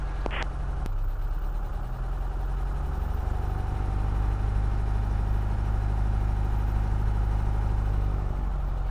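A small single-engine plane's engine runs steadily on runway 15 at Steinbach North airport in Canada, a loud continuous low drone with a brief higher tone at the start, no talk over it.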